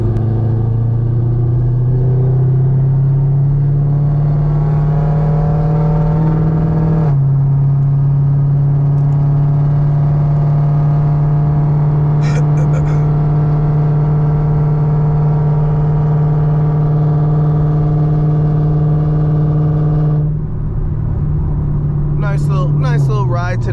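Chevrolet Camaro ZL1 engine droning steadily while driving on a country road, a loud, continuous low hum heard from inside the car, with a brief shift in tone partway through and someone talking over it.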